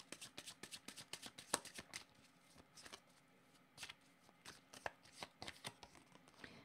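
Tarot cards are shuffled by hand in quick bursts of crisp riffling slaps, close and fairly quiet, with short pauses between runs of flicking.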